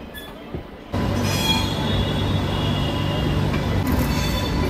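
The 12301 Howrah–New Delhi Rajdhani Express roars past at close range, a loud, steady rush of wheels and rattling carriages that starts abruptly and fills the whole stretch, with high wheel squeal on top.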